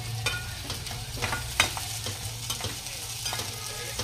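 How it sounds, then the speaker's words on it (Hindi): A medium onion fries in oil with bay leaf, ginger and garlic, sizzling steadily while a spoon stirs and scrapes the pan in irregular clicks for a pulao. "डाल दिया मैंने एक मीडियम साइज़ की अनियन ले लिया है, एक तेज़पत्ता है, थोड़ा सा अदरक लहसुन है।"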